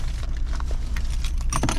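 Car keys jangle in a steady metallic rattle with brighter clinks near the end, close up over a low background rumble.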